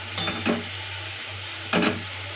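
Vegetables roasting in a pan give a few brief stirring scrapes and sizzles, two close bursts early and one later, with quiet background hum between.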